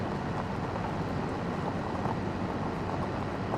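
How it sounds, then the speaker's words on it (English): A tractor drives over gravel in Farming Simulator 25, giving a steady, even rumble of engine and crunching stones that continues without a break and with no talk. "I love the sound of this truck or this tractor on the gravel and everything else"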